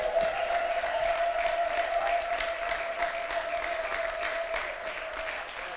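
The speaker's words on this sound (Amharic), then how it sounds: "በኢየሱስ ስም ለእግዚአብሔር እልልታ ጭብጨባ ስጡት።" A church congregation gives sustained applause with a steady, high ululating tone running through it. The dense clapping is continuous and fairly loud throughout, with no talking over it.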